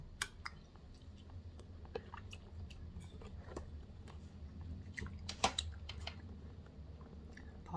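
A grandmother chews sukiyaki up close: soft, wet squishing and small bites in an irregular rhythm, quiet and with no talking.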